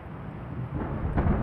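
Thunderstorm ambience in The Lion's Song game: a low rumble of thunder swelling gradually with a soft rain wash, growing louder toward the end, no voices.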